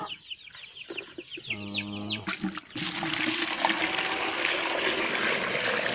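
Thirsty chicks, left without feed or water for an hour and a half, cheep in quick high calls up close, then a clucking hen joins before a steady wash of noise takes over.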